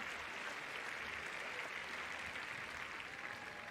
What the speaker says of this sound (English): Now listen to the cheer.